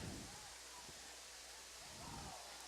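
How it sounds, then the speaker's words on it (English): Heavy rain falling during a high school football game, a constant dense hiss filling the whole clip with faint low crowd and field noise beneath. "And this is the hardest it has rained all day."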